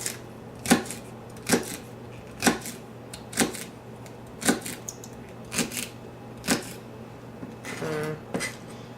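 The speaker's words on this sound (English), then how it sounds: "I'm going to continue to cut the celery." A knife cuts celery on a board with evenly spaced, crisp crunching chops about once a second, close and clear over a low hum, followed by a brief scraping shuffle.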